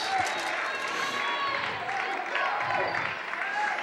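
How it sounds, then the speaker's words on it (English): Fans in a gym applaud during a Conneaut vs Meadville girls high school basketball game, a moderate crowd clatter with some cheering, under steady commentator talk. "the Conneaut side is applauding her"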